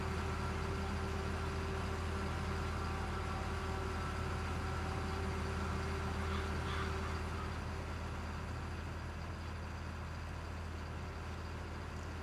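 A tractor engine in the farming video game Farming Simulator 22 drones steadily while driving, a continuous low, even hum with a faint tonal whine that holds throughout without a break.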